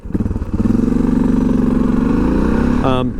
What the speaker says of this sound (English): I'm out on a test ride on the DR650.